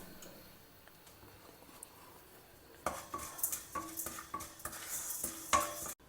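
Moong dal roasts in a hot kadai, a quiet stretch giving way to a spatula scraping and clinking against the metal pan in repeated strokes over a faint sizzle.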